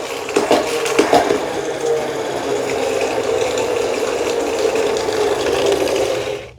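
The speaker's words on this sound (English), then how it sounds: "And now when I push the handle down, I'm simply just pushing the handle down at the top." A Libman Tornado spin mop whirs steadily in its bucket as the handle is pumped down, starting with a few ratcheting clicks and then settling into a continuous spinning rush that stops abruptly at the end.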